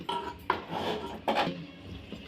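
Jaggery being broken into pieces in a pan with a metal utensil, a few close knocks and scraping clinks in quick succession, with no speech.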